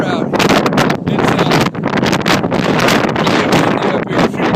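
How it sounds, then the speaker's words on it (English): Wind batters the microphone atop Mount Moosilauke's summit, producing loud, continuous roaring gusts with rapid buffeting pulses throughout. "windy up here. I'm sure you can hear it in the camera"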